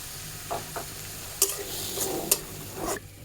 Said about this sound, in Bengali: চিংড়ি মাছটা ভালো করে ভেজে নিব